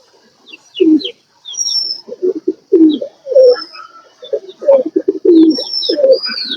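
A rare Lakha pigeon coos close by in repeated throaty bursts of low, rolling notes, with faint higher chirps from other birds scattered between them.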